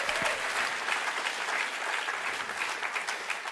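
A church congregation applauding together during a sermon, a steady wash of many hands clapping that stays loud and even from start to finish with no voices on top.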